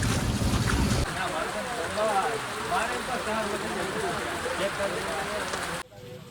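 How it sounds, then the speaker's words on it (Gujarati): Rain falls outside a hospital in Viramgam, making a steady wash of patter while people talk close by over it, then cutting off abruptly near the end. "વરસાદ ચાલુ થઈ ગયો છે અત્યારે"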